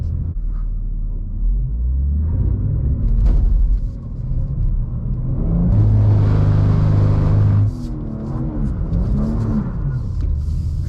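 A 2024 BMW M2 engine rumbles and revs up, then holds and stutters against the rev limiter in a wavering burst before dropping back to a low idle, close and loud, with no voices.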